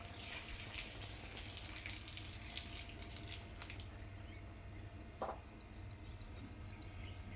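Continuous splashing and rushing of water pouring from a tap for watering a plant, steady and close, easing slightly toward the end.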